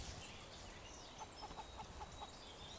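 Chickens in the survival video game Fountain of Youth give a short run of soft, evenly spaced clucks, faint and a little distant over a steady bed of ambient game noise.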